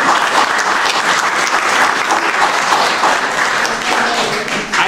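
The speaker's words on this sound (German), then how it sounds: "Aber wir können ja trotzdem mal Applaus geben" Close, loud applause from a German panel discussion audience, many hands clapping in a dense, even wash that holds for several seconds before easing slightly at the end.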